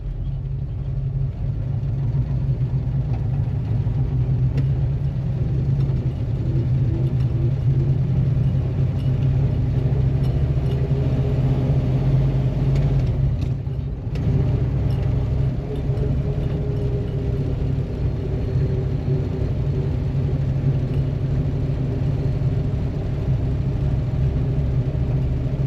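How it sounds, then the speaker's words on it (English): A Mini's small engine runs steadily while the car drives along a road, a continuous low rumbling drone that stays loud and close, with no voices. "Good news is this little motor's running pretty good."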